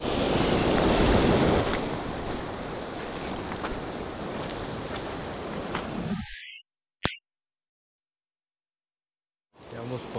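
River water in Antioquia, Colombia, rushing steadily with a loud, broadband wash and wind buffeting the microphone, then cutting to near silence before the flowing water returns faintly at the end.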